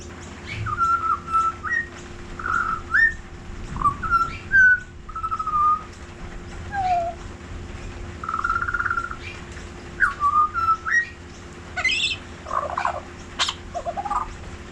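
A pet bird singing and whistling indoors, with a series of clear, bright whistled phrases and chirps in short bursts, loud and close, over a steady low hum with no talking.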